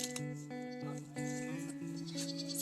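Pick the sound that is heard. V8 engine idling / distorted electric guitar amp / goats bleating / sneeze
goats bleating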